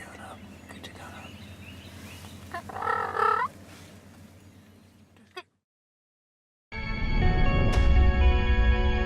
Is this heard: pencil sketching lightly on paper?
no